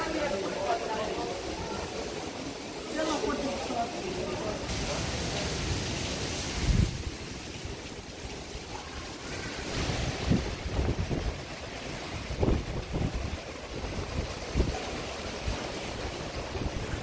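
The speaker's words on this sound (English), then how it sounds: "the wind's really starting to pick up now" Strong wind from Category 5 Hurricane Dorian in the Bahamas roars and buffets the microphone in continuous gusts, with surf-like rushing and someone speaking over it.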